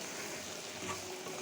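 Mango pickle with onion and garlic cooking over a medium flame while being stirred where it catches on the pan bottom, giving a low, steady sizzle and soft scraping that is faint and continuous.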